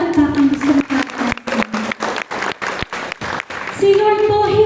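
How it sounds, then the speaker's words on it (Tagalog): A church congregation claps in a steady rhythm of sharp, close bursts for several seconds, with a voice speaking over the applause. "Pwede po ba pumalakpak ang gusto maranasan?"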